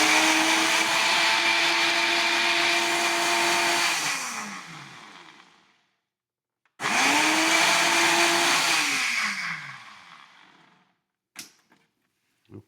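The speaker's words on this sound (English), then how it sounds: "Put the top on our blender." A blender whirs loudly for about four seconds and winds down, then runs again in a second burst before stopping, followed by a couple of light knocks.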